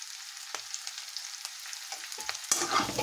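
Onions hit hot oil in a pan for a dahi shimla mirch sabzi, giving a soft, crackling sizzle broken by a few quick stirring scrapes, and a louder burst of frying near the end. No one speaks.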